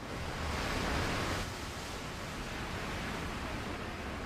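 A river waterfall gives a steady, broad rushing hiss of falling water, close and even throughout, with no voices.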